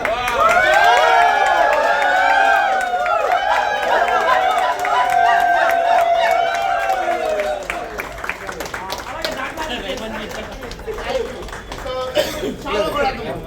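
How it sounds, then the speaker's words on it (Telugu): A crowd at a Hyundai Exter car inauguration chatters and calls out loudly, with scattered clapping and cheering that turns into sharper, more distinct claps toward the end. "మీ అందరూ జోర్ క్లాప్"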